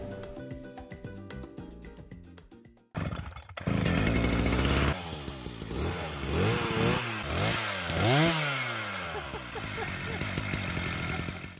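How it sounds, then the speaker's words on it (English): A chainsaw mounted on a robot starts up after a few seconds of mechanical noise, then runs loud and close, its engine revving up and down repeatedly. "we can't turn off the chainsaw easily once it's running"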